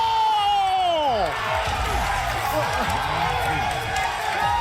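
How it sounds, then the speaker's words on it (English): Tournament crowd at the TWT Finals 2018 fighting-game event erupts in loud, sustained cheering and chanting of USA that fills the whole stretch, with a rising whoop at the start and continuous dense roar. "the crowd of the USA chant, started by Spiro Jin"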